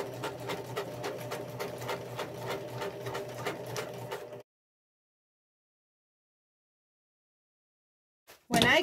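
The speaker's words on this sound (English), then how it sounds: "I lay it down and I stitch." Sewing machine stitching a fabric slip cover panel, a fast steady mechanical chatter for about four seconds that stops abruptly, followed by silence and a brief clatter at the end.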